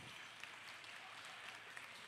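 Sustained applause from an audience at a Durga Puja cultural stage performance, a faint, steady wash of clapping heard from a distance with no pauses.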